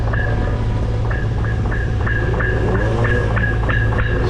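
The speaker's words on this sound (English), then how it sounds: "It's Jag tapping on the pipe, you can hear that." Rhythmic metallic taps ring out on a pipe of a boom during cleaning with sponge balls on a rope, about a dozen evenly spaced knocks over a steady low machinery hum.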